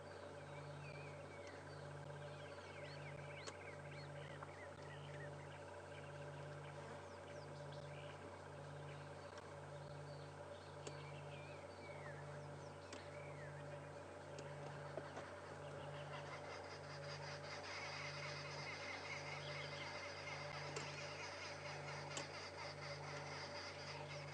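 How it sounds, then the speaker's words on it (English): Arrow-marked babblers chatter on a morning safari drive at Djuma and Arathusa, a faint, busy cackling chorus that carries on throughout, set against a steady low engine hum and the hiss of wind. "Some arrow-marked babblers babbling away."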